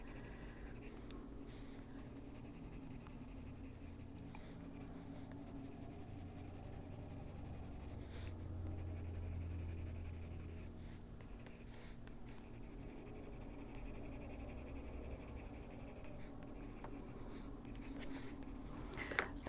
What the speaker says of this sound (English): you just bring in your light color again and go over that, blend it out